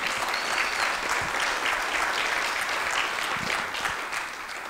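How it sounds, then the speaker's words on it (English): Audience applause fills the room at a real estate investors' meeting, a steady wash of clapping from many hands lasting the whole stretch without pause. "Everyone, give him a round of applause,"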